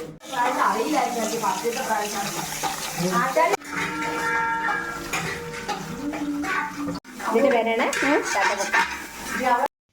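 Spice seeds for a medicinal monsoon porridge are washed in water and strained through a sieve, giving continuous close sloshing, rustling and clinking while someone talks over it.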